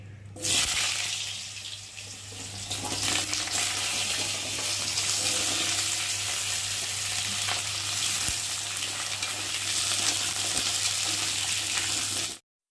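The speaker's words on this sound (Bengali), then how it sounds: "এই যে কেটে রাখা আলুগুলোকে দিয়ে তেলের মধ্যে আগে ভেজে নেব।" Cut potatoes sizzle steadily in hot oil for several seconds, a continuous crackling hiss over a low background hum.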